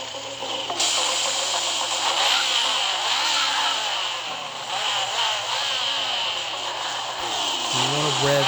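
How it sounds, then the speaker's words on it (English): Car engine revving hard at a race start in the mobile racing game Forza Street, a loud continuous high-pitched buzz with rising and falling pitch sweeps, steady throughout and dipping briefly near the end. "You want to rev inside the green to get a perfect start."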